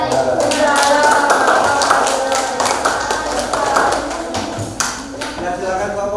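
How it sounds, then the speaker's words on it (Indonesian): Hands clapping from a classroom audience during a teacher performance assessment, steady rapid claps continuing throughout at close range, with voices mixed in underneath. "Ya, tepuk tangan."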